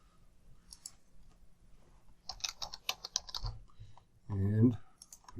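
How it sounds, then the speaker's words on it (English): Quick bursts of keystrokes on a computer keyboard as a password is entered, a clustered run of close, crisp clicks, followed by a brief spoken voice. "And put in my password."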